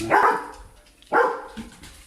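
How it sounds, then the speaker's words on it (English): A dog barks twice, a couple of sharp barks about a second apart, moderately close. "Sorry about the barking."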